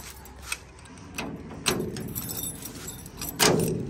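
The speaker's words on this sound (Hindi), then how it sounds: "तो चाबी से ये ताला खोलते हैं" Keys jangle in a few short metallic bursts while a padlock on a door is unlocked, close and fairly loud against low background noise.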